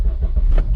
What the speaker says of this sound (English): So I'm gonna turn my car on,